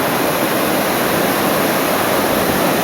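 A winter waterfall under high water pressure roars as a loud, steady, broadband rush of falling water, close and continuous with no break.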